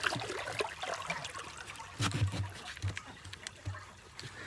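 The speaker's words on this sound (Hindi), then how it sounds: "मोटर ने पानी उठा लिया" Water from a motor pump trickles and splashes into a channel on a turmeric farm, an uneven, fairly quiet flow with irregular gurgling bursts and a few louder surges.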